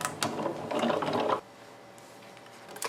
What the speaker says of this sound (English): You may hear some cracking as I move it through the machine, but this is normal.